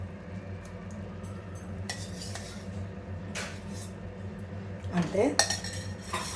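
A spoon stirs cooked rice and yogurt together in a metal pot for meal maker kushka, giving soft scraping and occasional clinks against the pot over steady background noise. Near the end the stirring gets briefer and louder.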